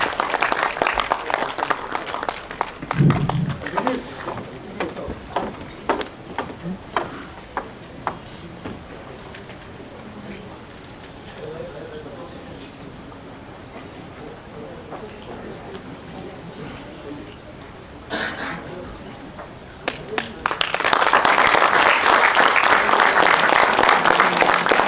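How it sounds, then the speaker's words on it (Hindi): Audience applause at a book launch ceremony in Dehradun swells into a loud, dense wave of clapping near the end, after a stretch of crackly hall noise with scattered claps and murmur. "एक बार जोरदार तालियों से आप लोग इस स्वागत को और गरिमामय बनाएंगे"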